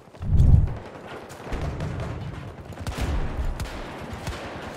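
Gunshots from a shooter video game, with an underbarrel shotgun in use: one heavy, booming shot up front, then a run of quicker, lighter bursts of fire at moderate loudness.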